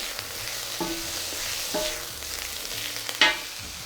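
Frozen peas stir-frying for pineapple fried rice: a steady hiss of sizzling in the pan, broken by a few scraping stirs, close and loud, with no talking.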